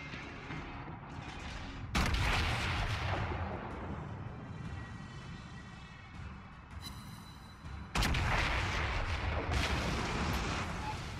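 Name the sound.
warship cannons firing in video game World of Warships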